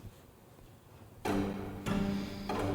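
Violas and cellos playing col legno, struck with the wood of the bow, in an orchestral arrangement, a dry tick-tock pulse that enters suddenly after a quiet lead-in and sustains with a few accented re-entries.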